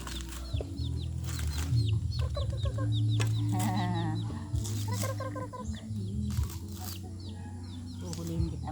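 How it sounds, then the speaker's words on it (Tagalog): Chickens cluck and call repeatedly at close range, with the faint peeping of a chick and some rustling among them, mixed with outdoor background noise. "may sisiw ng manok"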